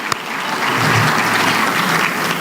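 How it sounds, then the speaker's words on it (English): Audience applause at an awards ceremony, a dense, steady roar of many hands clapping that holds loud and even throughout, with one sharp knock near the start. "Give him a round of applause."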